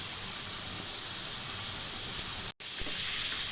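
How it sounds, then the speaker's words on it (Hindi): Garlic and ginger paste fries in a karahi for Peshawari chicken karahi, giving a dense, steady sizzle at close range that cuts out for a moment and then resumes, with no talk. "अब लहसुन अदरक डाल के अब इसको भी भूनना है।"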